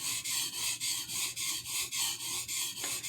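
A knife blade stroked back and forth across a cheap Loveeta water stone, close rhythmic gritty scraping in even strokes about three per second, with no voices.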